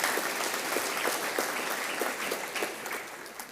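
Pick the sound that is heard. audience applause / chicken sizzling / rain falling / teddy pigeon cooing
audience applause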